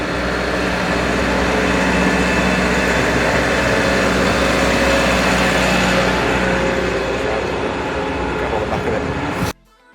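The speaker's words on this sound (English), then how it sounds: "A little road train." A little road train rumbles past on Llandudno promenade, a loud, continuous mechanical drone close by that holds steady before cutting off abruptly.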